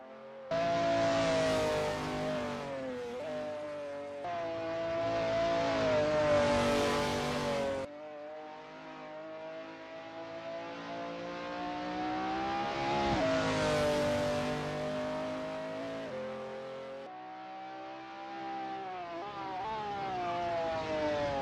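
McLaren F1 GTR race cars in a racing game at Sonoma Raceway Long Circuit: a loud, steady engine drone whose revs climb and fall, with sharp gear-change drops near four and eight seconds and no voices.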